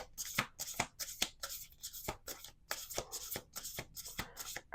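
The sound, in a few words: shuffling oracle cards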